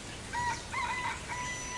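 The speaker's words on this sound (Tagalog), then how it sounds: "Tumitilaok na ang mga manok." Roosters crow in the distance in a rural setting, with several faint, drawn-out calls that rise and fall over a low background hiss.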